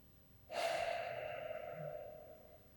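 A single long, steady exhalation during a qigong breathing exercise, close and fairly soft, with a breathy onset that tapers off gradually over about two seconds.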